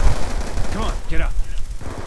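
Rapid gunfire from the video game Call of Duty Black Ops 2, loud and dense like a burst of automatic shots, with a voice briefly speaking over the din.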